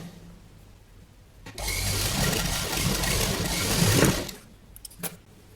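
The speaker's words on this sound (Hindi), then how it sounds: "इसको इस तरफ पलटकर इस पट्टी के ऊपर हम सिलाई लगाएंगे।" Close sewing machine running a steady burst of stitching along a blouse strip for about two and a half seconds, with quieter handling before and after.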